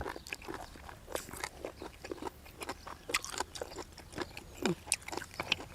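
Large boiled apple snails, served with a dipping sauce, are chewed up close with a steady run of crisp, crunchy bites and wet chewing, with no talking.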